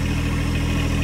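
A tractor engine runs at a steady idle, a close, low, even rumble with a constant throb and no talk.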